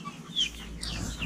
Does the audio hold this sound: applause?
no